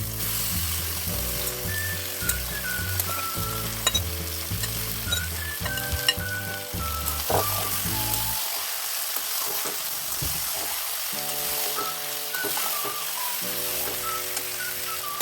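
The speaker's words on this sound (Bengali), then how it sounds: "এখন ম্যারিনেট করা মাংসগুলোকে ঢেলে দেব।" Marinated desi chicken sizzles in hot oil with bay leaves, a loud steady frying crackle with occasional stirring clinks under background music that drops out partway through.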